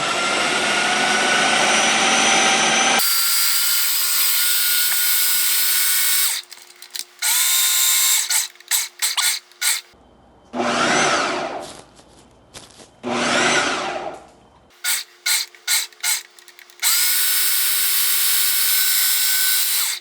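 A food processor set to high grinds almonds into almond butter, running loud in long bursts broken by short stops and stuttering pulses, with no one talking.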